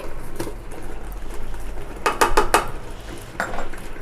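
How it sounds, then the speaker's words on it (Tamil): Strawberry jam with brown sugar being stirred in a pot, a spoon clinking and scraping against the metal in a quick cluster of knocks, then a single later tap over a low kitchen hum. "நல்லா கிண்ட போகிறோம்"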